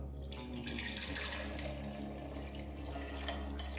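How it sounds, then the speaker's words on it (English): Boiling water pours steadily into a teapot holding mango-scented loose tea, a soft continuous splashing stream heard alone and fairly quiet. "add 500 mils of boiling water"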